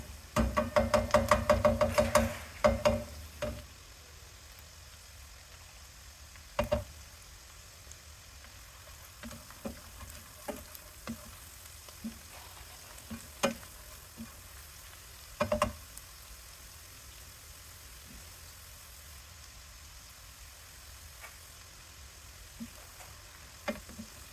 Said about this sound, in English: ideally, you want to see a little browning on some of the onions. So we'll keep going for a minute.